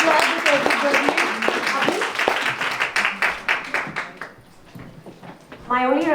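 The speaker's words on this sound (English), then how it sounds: "Can we have a big round of applause?" An audience applauds at the close of a panel discussion on wealth, diversity and leadership. Rapid, fairly loud clapping fills the first four seconds and then thins out, and a person talks near the end.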